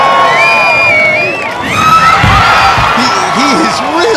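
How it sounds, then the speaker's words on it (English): A loud crowd cheers and whoops at a Sasuke obstacle course competition while a competitor works the jumping bars, steady roaring applause with shouts rising over it and a commentator talking throughout. "The crowd is going nuts."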